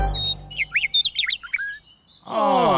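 Cartoon bird chirps rapidly in a quick burst of high tweets, loud and close, followed by a brief pause before a character starts talking.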